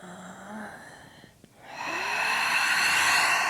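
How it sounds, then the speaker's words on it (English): A person gives a big audible yawn during a slow gyrokinesis warm-up, a drawn-out breathy exhale that swells and holds steady after a brief pause, alone and close. "Big yawn."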